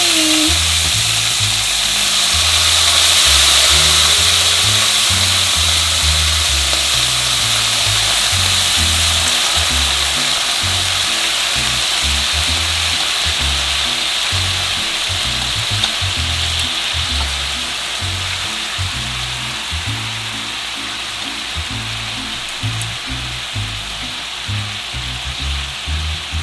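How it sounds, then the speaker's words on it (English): Balsamic vinegar sizzles hard in a hot pan with beef tenderloin and mushrooms, a steady loud frying hiss that slowly settles as it reduces, with faint scraping and bubbling beneath. "And I'm going to add balsamic vinegar."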